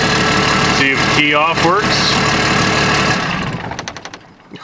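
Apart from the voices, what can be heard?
Cummins diesel engine idling in swapped Ford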